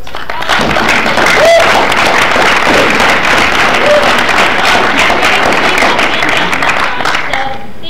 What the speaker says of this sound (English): I want everyone to give her a round of applause